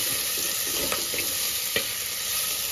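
Onions and tomatoes fry in oil in a pan, a steady close sizzle with a couple of soft stirring scrapes and no talk.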